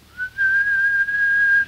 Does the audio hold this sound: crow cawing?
no